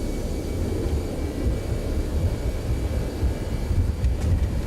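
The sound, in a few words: Airbus A321neo thrust reversers on landing rollout, X-Plane 12 video game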